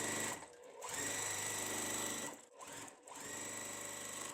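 Domestic sewing machine stitching quilt block pieces with continuous thread, running in steady bursts with two brief pauses between seams, close and loud, no voices.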